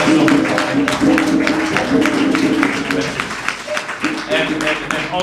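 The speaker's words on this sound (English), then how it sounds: "Let's clap hands for them for the wonderful work they do" An audience claps at a press briefing held by CAF President Patrice Motsepe and GFA President Kurt Okraku, a dense, steady round of applause that carries through the whole stretch and fades a little near the end.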